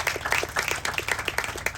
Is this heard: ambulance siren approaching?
no